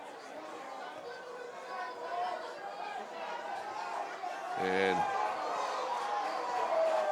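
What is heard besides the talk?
lacrosse crowd reacting disapprovingly to a hit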